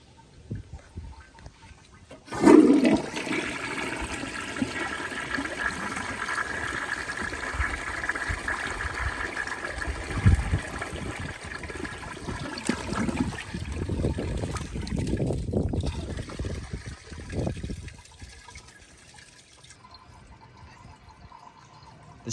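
A Crane Santonia toilet flushes with a sudden surge of rushing water that churns steadily, then tapers into refilling trickles and gurgles, close by with no one talking.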